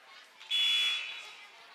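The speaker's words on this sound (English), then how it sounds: "there's the buzzer" A shot clock buzzer sounds in a gym during a high school girls basketball game, a single sustained electronic buzz lasting about half a second above a murmur of crowd noise.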